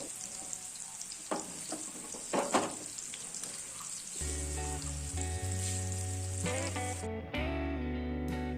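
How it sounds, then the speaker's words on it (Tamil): Prawns sizzle and crackle in hot oil in a pan, with stirring scrapes early on and a steady frying hiss throughout, with no talking. "திருப்பி போட்டு அதை ஒரு 3 நிமிஷம் ஃப்ரை பண்ணுங்கள்."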